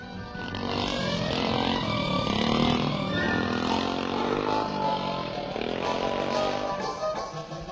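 A small three-gear scrambling motorcycle with a top speed of 35 mph rides over the bumps of an old gravel pit, its engine droning and revving steadily, close and loud throughout with some clatter, and no pauses.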